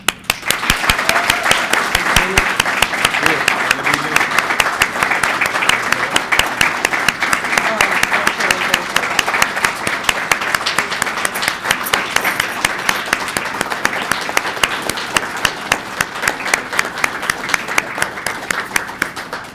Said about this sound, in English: Now everybody can applaud.